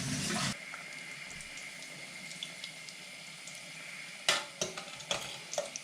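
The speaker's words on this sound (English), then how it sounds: "just wash my hands before I start with the next ones." Water runs steadily from a kitchen tap while hands are washed under it, with a loud opening burst and a few brief splashes and clatters toward the end.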